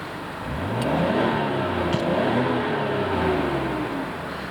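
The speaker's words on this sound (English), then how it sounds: "Happy engine." A 1991 Nissan Skyline GT-R engine runs steadily close by, its revs rising and falling in a smooth, continuous drone with no talk over it.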